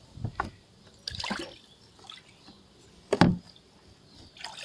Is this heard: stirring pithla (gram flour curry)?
no